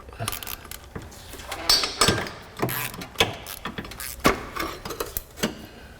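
Ratchet clicks and metal clinks sound in quick, uneven bursts as 12-point 10 mm fasteners come off a Honda Element axle, close up with no talking.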